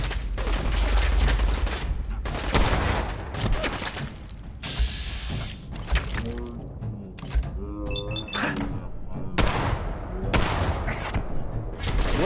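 Gunfire in Fallout 4 crackles in bursts and single shots, near and loud, with gaps and mechanical clicks between volleys over a busy game soundscape.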